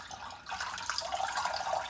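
Milk chilled in the freezer pouring out of a container while the cream stays behind, a steady close liquid stream with no talking.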